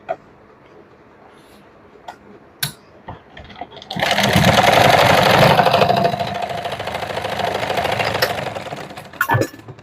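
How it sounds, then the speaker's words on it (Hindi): A sewing machine stitches saree fabric in a loud, fast, continuous whir for a few seconds, then slows and stops, framed by quiet handling clicks before and after. "थोड़ा थोड़ा सिलाई लगा लेंगे हल्के हल्के से।"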